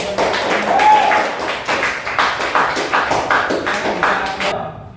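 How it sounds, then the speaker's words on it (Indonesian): A classroom of students gives a group of classmates a round of applause, with steady, dense clapping from many hands that is loud and close and stops abruptly near the end. "Silakan tepuk tangan untuk kelompok 2."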